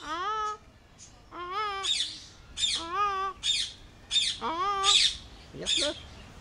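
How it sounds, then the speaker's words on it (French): Repeated harsh squawking calls from a parakeet, several rising, strained cries in a steady series of about eight bursts, fairly close and loud, with no talk over them. "C'est une perruche, là."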